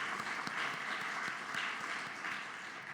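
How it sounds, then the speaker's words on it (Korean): A church congregation claps during a Sunday worship service, a steady, moderately distant patter of many hands that continues throughout without a break. "이 가정을 위해서도 축복하는 박수 하도록 하겠습니다."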